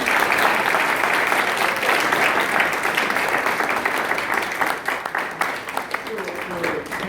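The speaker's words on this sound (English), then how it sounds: "Let me give the candidates an applause." An audience at a state senate district candidate forum applauds the candidates, loud sustained clapping that thins into scattered claps toward the end.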